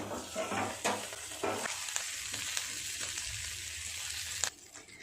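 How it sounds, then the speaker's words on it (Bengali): Prawn paturi sizzles in a hot pan with a few scraping stirs early on, then a steady frying hiss that cuts off near the end. "আমি তো এইভাবে ভেজে নিচ্ছি"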